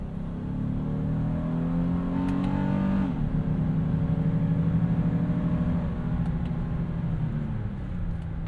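A 2023 Honda Ridgeline Black Edition engine revs up in sport mode past 5,000 RPM, its rising harmonic whine climbing steadily, then dropping briefly at a shift before building louder again, heard close from inside the cabin.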